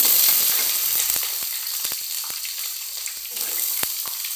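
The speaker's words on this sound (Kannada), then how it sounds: "ಈರುಳ್ಳಿ ಹಸಿಮೆಣಸಿಕಾಯಿ ಬೆಳ್ಳುಳ್ಳಿ ಬೆಸ್ಕೊಂಡಿದ್ದೀನಿ ನಾನು" Onion, green chili and garlic fry in a pan with a loud, steady close sizzle and scattered crackles and pops, heard alone without talk.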